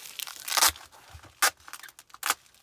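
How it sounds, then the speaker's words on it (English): Packing tape torn and wrapped around a shipping item, heard as a few sharp ripping and crinkling bursts, close and fairly loud, with short pauses between them. "Put a little tape on there"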